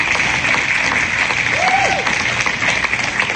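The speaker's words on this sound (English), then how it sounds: "So massive round of applause." Sustained, fairly loud audience applause fills a hall, steady and even from start to finish, with a brief whistle-like tone rising and falling midway.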